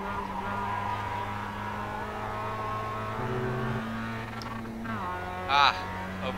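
A Mazda MX-5 Cup race car engine in the iRacing simulator holds a steady high drone, then over-revs and drops in pitch near the end, with a brief sharper whine after, at moderate level.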